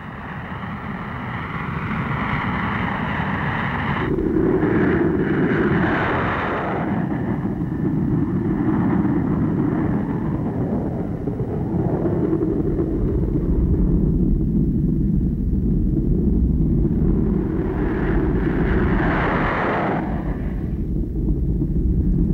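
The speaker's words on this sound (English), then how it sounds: "the first time they had heard the roar of a jet engine" A P-59 jet aircraft engine roars in a sustained, loud rumble that swells twice as the plane passes, with no voices over it.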